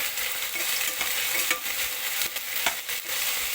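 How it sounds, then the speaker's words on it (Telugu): Ginger-garlic paste fries in hot oil with a continuous close sizzle, while a spoon scrapes and stirs through it with occasional soft taps against the pan. "అల్లం వెల్లుల్లి పేస్ట్ వేసి పచ్చివాసన పోయే వరకు బాగా"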